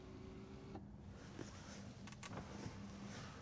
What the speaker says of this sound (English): The panoramic roof also has a screen as well, which if you wanted to close it off, it can do at the touch of a button